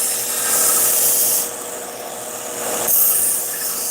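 A knife blade is drawn across a sharpener fitted with an angle guide, giving two or three close, abrasive rasping strokes with brief quieter gaps between them.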